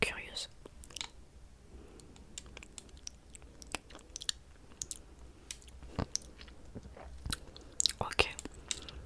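Close, quiet chewing and crunchy bites of food tasted for sushi, with scattered wet clicks and soft whispery breaths over a faint low hum.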